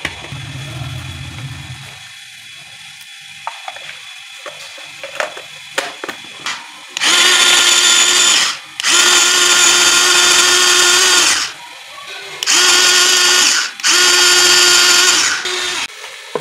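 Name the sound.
garlic being crushed in an electric chopper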